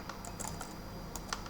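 Computer keyboard keys tapped while writing code for a Unity 2D platformer game, a quick run of close, crisp clicks in irregular bursts over a quiet room.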